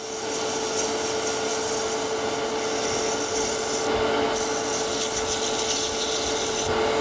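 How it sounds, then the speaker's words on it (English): Steady abrasive rubbing as a wooden two-piece spinning top is sanded while spinning on a lathe, a continuous close hiss with a faint motor hum beneath, briefly easing twice. "it just needs a very light amount of sanding right here"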